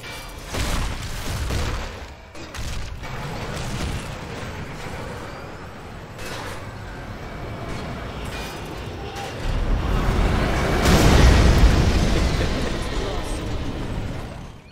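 Weapons fire and explosions in the Red Alert 3 Uprising strategy game, with a steady rumbling battle din and booming blasts that swell louder toward the end, under game voices.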